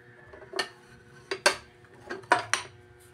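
Ceramic plates clink and clatter in a home kitchen, a few sharp knocks spread across a few seconds, close and fairly soft, with no talk.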